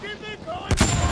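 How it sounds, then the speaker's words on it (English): Heavy gunfire erupts in a video game battle, a loud sustained burst of shots that swells in the second half after quieter game noise, with a voice faintly audible under it. "Machine gun!"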